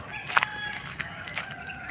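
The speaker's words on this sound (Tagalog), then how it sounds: "mga huni-huni lang ng ibon ang inyong maririnig" Bird calls and a chicken's clucks and crows ring out outdoors in the dark early morning around six, short and mid-distance, with a few scattered chirps over a quiet background hiss.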